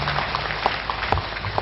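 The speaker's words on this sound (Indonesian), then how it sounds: "Tepuk tangan dulu ya." An audience at an early-childhood education seminar claps in brief, moderate applause, a patter of many hands lasting only a moment.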